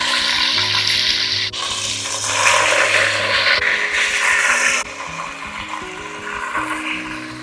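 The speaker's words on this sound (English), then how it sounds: "I love the sound of sizzle." Beef for a slow-cooked Goan pot roast searing in a hot pot gives a loud, steady hiss and crackle that runs without a break from start to finish, with no talking over it.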